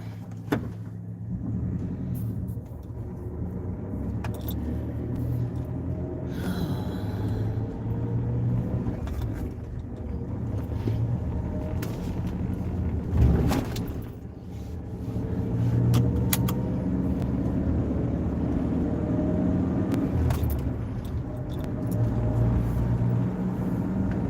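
A car cruises along Interstate 90 in Wyoming, heard from inside the cabin as a steady low engine and road rumble with occasional small rattles and clicks, continuous throughout.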